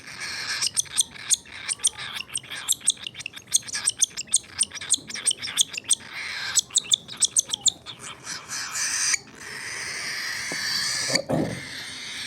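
A pet bird chirps repeatedly while being fed, sharp high tweets coming in rapid bursts up close, followed by a scraping noise near the end.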